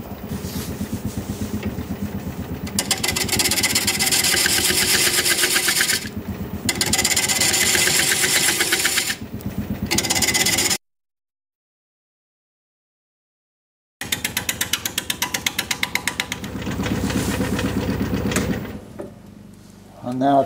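Wood lathe spinning a large, out-of-balance turning blank with a rhythmic rumbling drone, loud and close, cutting out for a few seconds of silence before running up again and then slowing near the end.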